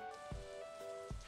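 Rain falls in the video game Stardew Valley as a faint, soft patter, with a quiet tonal game soundtrack and a couple of low thumps underneath.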